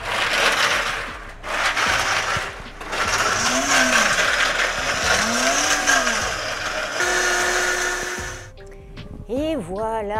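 A blender whirs loudly for several seconds as plant milk is blended for a Halloween recipe, the motor pitch rising and falling in waves before stopping, with a voice briefly heard at the end.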